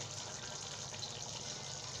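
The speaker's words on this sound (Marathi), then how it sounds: "आपण अजून त्यामध्ये थोडस पाणी सोडू आपण" A small amount of water is poured into a pan of chicken masala frying in oil, giving a steady, close, continuous gush and trickle with no talk over it.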